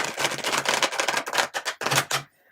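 A deck of tarot cards is shuffled by hand in quick, crisp riffling bursts, close and clear, with a few short pauses before it stops.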